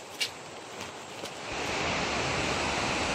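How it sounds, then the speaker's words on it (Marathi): A river rushes and gurgles in a steady broadband wash, louder and fuller in the second half, heard without talk. "नदीचा आवाज सुद्धा पाण्याचा येतोय, खळखळाट आपल्याला आता ऐकायला."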